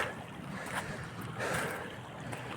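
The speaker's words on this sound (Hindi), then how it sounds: "जो नदी की वाइब्रेशन है, मतलब इसकी ध्वनि है" A flowing river rushes in a steady, noisy wash recorded outdoors beside the water, with a slight surge partway through and no voices.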